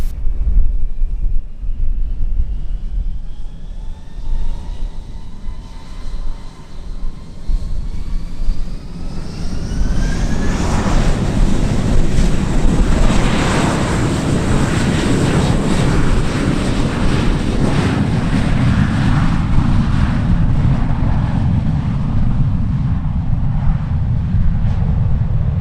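A JetBlue jet airliner taking off from runway 07 at Sangster International Airport in Montego Bay, Jamaica, its engines winding up with a rising whine before swelling into a loud, sustained roar, heard outdoors with wind buffeting the microphone.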